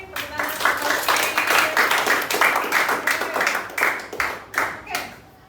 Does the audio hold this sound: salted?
no